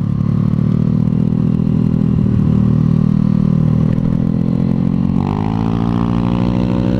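Yamaha Mio scooter on a test ride, its engine droning loud and steady close by, then rising in pitch as it accelerates near the end, with no talk.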